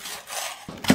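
A knife cuts a pointed chili pepper as vegetables are prepped for spicy fried noodles. Soft scraping gives way to a couple of crisp, close chopping strokes near the end.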